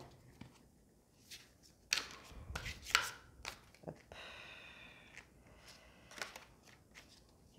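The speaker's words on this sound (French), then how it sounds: "c'est difficile pour moi de mélanger les cartes" Large tarot cards being shuffled by small hands, giving soft irregular riffles, slaps and papery rustles at close range, with a few sharper card snaps.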